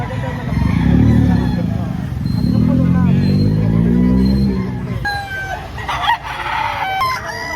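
Roosters crow and chickens cluck amid a busy crowd at a Saturday chicken market in Lipa, Batangas, Philippines, with people chatting loudly nearby and occasional traffic noise in the background.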